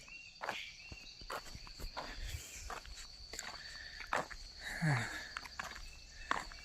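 Footsteps crunch along a deserted uphill forest road in a jungle, in a loose, irregular rhythm of soft, fairly close steps, with faint insects in the background and no talking.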